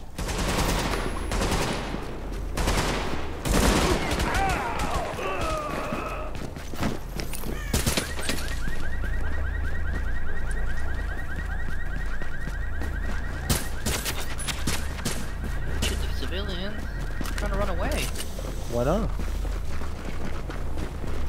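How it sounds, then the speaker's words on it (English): Gunfire rattles through a firefight in The Division video game, with sustained automatic bursts and scattered shots over game sounds and a player talking throughout. "If I shoot at them, they run away."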